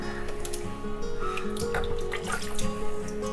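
Water splashes and trickles steadily as pieces of shark fish are rinsed by hand in a vessel, close and continuous.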